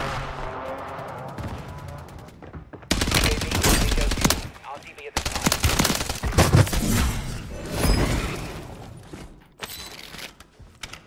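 Bursts of rapid Striker SMG fire in the Warzone battle royale game, loud and close, in dense repeated volleys with mechanical clicks between, preceded by a quieter stretch.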